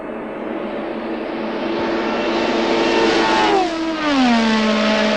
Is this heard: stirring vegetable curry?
no